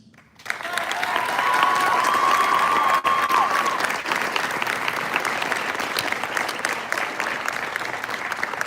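Sustained applause from an event audience honoring speakers, rising quickly to a loud, dense wash of clapping that holds steady throughout, with a brief tonal whistle or feedback line early on and faint voices underneath.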